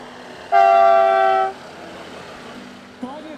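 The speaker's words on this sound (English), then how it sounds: "the other is an air horn, which we're about to hear" A loud, steady aircraft air horn blast at an airshow lasting about a second, harmonically rich and piercing, followed by quieter background noise.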